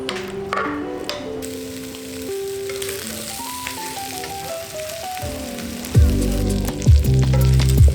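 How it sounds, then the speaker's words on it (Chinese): Chicken sizzles and crackles loudly in a hot pan, a steady frying hiss under a musical backing, with a sharper burst of sizzling near the end. "把鸡煎一煎"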